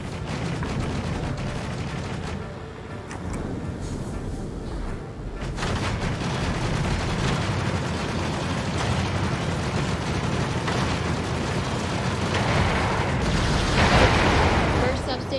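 A station is destroyed in the VR mech game Vox Machinae: a dense, loud roar of blasts and gunfire that rumbles continuously, with heavier bursts swelling near the middle and again toward the end.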